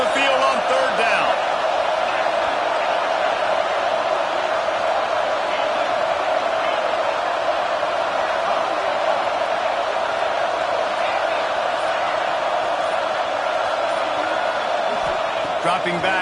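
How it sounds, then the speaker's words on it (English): The home crowd at a college football game between Oregon and USF roars in a dense, continuous wall of cheering as the defense faces third down, far-off and unbroken under a commentator talking. "Here comes this home crowd as the defense tries to get off the field on 3rd down"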